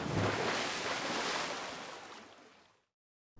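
Water and waves in the submarine scene of the game 999: Nine Hours, Nine Persons, Nine Doors, a broad rushing surf-like wash that slowly fades, cuts to silence, then briefly returns.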